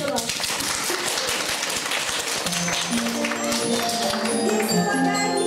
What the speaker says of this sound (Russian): Хлопаем весело.